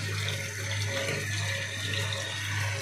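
Water churns and swirls steadily inside a 50-litre shampoo mixer machine, a continuous close rushing wash over a low constant motor hum.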